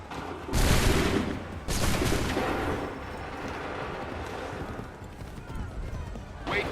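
A musket volley roars out in the Battle of Bunker Hill in Assassin's Creed 3 Remastered, one loud near blast then a second massed crack, trailing into a long rumbling wash of distant battlefield gunfire.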